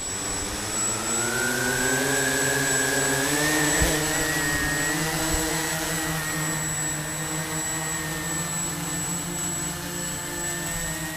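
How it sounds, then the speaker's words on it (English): A small quadcopter drone lifts off and hovers close by with a steady, loud, high-pitched motor and propeller whine that shifts in pitch slightly as it climbs and settles. "I'm going to take off a little bit and show you how I fly"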